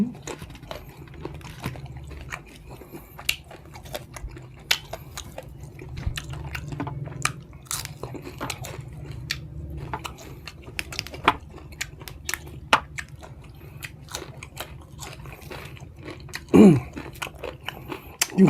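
Raw beef koi with legs eaten by one person, steady wet chewing and crunchy bites close to the mic, with brief sharp clicks scattered throughout and a louder bite near the end.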